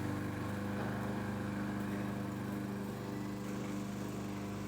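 A Bestmow robot lawn mower runs steadily while mowing outdoors, a constant motor whine and hum at moderate distance, even throughout with no talking.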